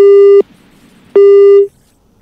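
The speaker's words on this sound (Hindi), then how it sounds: "एडीजी उपेंद्र जैन का फोन कट गया है" A telephone busy tone follows a dropped call during a Hindi news broadcast: two loud, steady electronic beeps, each under half a second, separated by a short gap of silence.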